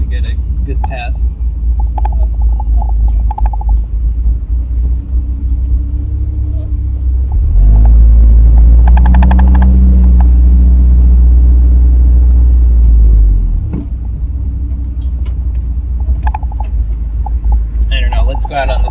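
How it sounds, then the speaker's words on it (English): A car fitted with an Arduino-controlled A340 automatic transmission rolls around a parking lot, its engine rumble swelling loudly for several seconds mid-way while someone talks over the drive. "Let's just drive around the parking lot."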